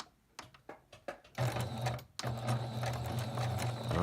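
A sewing machine back stitches through a quilt, starting with several slow, separate needle strokes before breaking into a fast, continuous mechanical whirr, close and clear.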